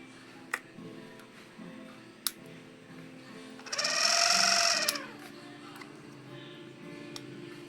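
A 20Ah 12V lithium-ion battery pack built from 18650 cells, apparently overused, giving a faint steady electrical hum with a louder whining surge lasting about a second in the middle and a few faint clicks.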